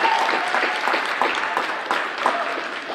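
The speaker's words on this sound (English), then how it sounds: "let's do a round of applause for our senior volleyball athletes here for 2020" Applause fills the room for senior volleyball athletes at a 2020 varsity match, dense steady clapping from a crowd with a few louder bursts, continuing evenly throughout.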